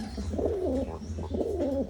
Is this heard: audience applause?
no